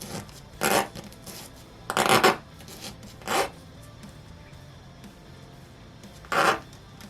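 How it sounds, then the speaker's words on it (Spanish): A small piece from a Utahraptor 3D model kit is sanded in four short, scratchy rasping strokes. The strokes are spaced irregularly against a quiet background. "Vamos a lijar esta vez un poco más."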